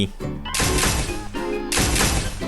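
Upgraded M60 machine gun in a video game firing its new special shot sound: two loud, crunchy blasts a second apart, each with a heavy, sustained rumbling tail.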